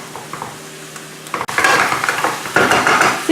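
Chicken drumsticks brown in a hot pan with a sudden burst of loud sizzling and spattering after a quieter start, with scraping and stirring of a utensil against the pan.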